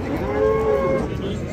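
A cow lets out one short, close moo at the Do'rmancha livestock market, with a faint crowd murmur behind it.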